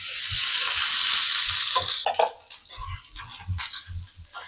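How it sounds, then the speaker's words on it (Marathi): Onion frying in a little oil in a home kitchen, a bright steady sizzle that drops off sharply partway through, followed by softer intermittent crackles and stirring noises. "कांदा आता आपण भाजून घेऊ। थोडंसं तेल टाकून घेते मी।"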